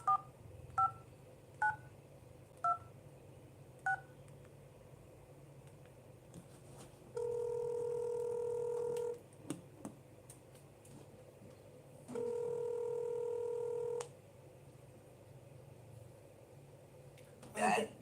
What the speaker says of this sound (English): The phone call you just heard.